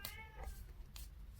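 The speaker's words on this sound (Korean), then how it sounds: "고양이" A cat gives a couple of short, faint meows close by, with a quiet room hum behind them.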